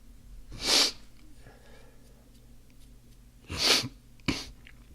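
Several sharp, breathy sniffs through the nose, close and fairly loud, separated by short pauses in an otherwise quiet room.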